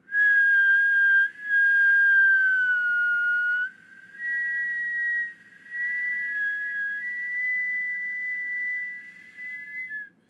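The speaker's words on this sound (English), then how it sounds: "my longest whistle" A person whistles a long, sustained tone in a few held phrases with brief breaths between, the pitch wavering slightly, clear and close.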